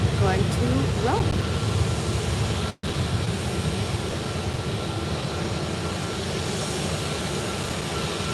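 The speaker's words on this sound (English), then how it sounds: "Here comes the Ryanair, which is right there, and also Wizz Air going to Rome." Ryanair and Wizz Air airliners at Málaga airport produce a broad, continuous jet engine roar, loud and steady throughout, with a brief dropout and faint higher squeaks early on.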